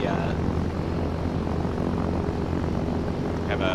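Cessna propeller plane in the Arma 3 video game drones with a steady, loud engine hum and buzz throughout, while people talk over it.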